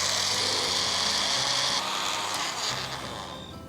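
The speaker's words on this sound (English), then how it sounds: "And now let's grind this into a fine powder." An electric grinder jar whirs as it reduces chocolate cookie pieces to a fine powder, a close, harsh, continuous buzz that eases and fades toward the end.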